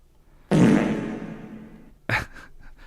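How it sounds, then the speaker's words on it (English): A loud, wet fart sound effect from a soundboard bursts out and trails off over about a second and a half, followed by a second shorter, sharper blip. "Apparently my farts knock guitars off the wall."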